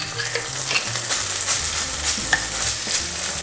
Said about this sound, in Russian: Обжариваем томатную пасту для усиления вкуса и цвета.